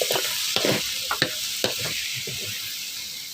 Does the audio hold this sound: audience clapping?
no